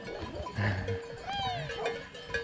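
A flock of sheep, with dogs nearby, crowding a mountain hiking trail in the French Alps, with overlapping bleats, a bell-like clank and rustling movement at close range throughout.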